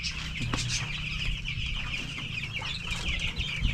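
Chickens cluck and chatter nearby in a steady, overlapping stream, with a constant low background hum.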